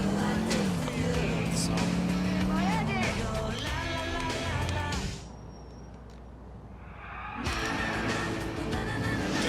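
A Sentinel XS car in the video game GTA IV revs and accelerates with squealing tires, cuts out into a brief quieter stretch, then roars back. A voice talks over parts of it.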